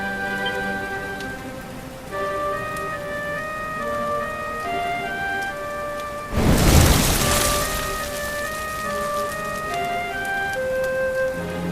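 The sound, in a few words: rain falling in Dragon Quest XI video game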